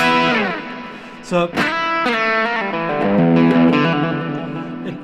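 An electric guitar with light overdrive rings out chords and single notes, its tone slightly gritty and washed in reverb, with a brief spoken word near the start.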